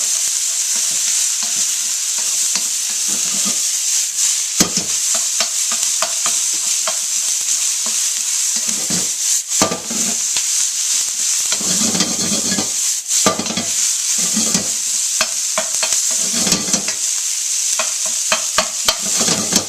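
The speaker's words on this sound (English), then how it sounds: "And saute that stuff up." Vegetables sauté for veggie fried rice, hissing and sizzling in a pan while a utensil stirs and scrapes with frequent clacks against the metal, close and continuous.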